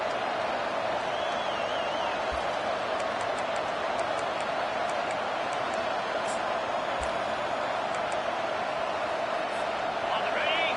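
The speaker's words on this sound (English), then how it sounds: "This crowd busting the decibel meter and trying to will a 4th down stop." A stadium crowd in an American football video game roars loudly and continuously during a fourth-down stand, with faint clicks and squeaks on top.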